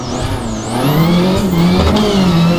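Skoda Fabia R5 rally car in the Richard Burns Rally game, the engine loud and close as it revs up and climbs through the gears, a continuous aggressive drone with pitch rising and dipping.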